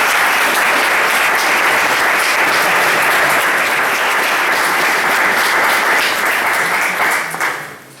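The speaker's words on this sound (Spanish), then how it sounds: "os dejo con Miguel Argaya Roca, pidiendo primero un aplauso para él." Sustained audience applause at a lecture event, loud and dense from start to end, with many hands clapping steadily before tapering off in the last second.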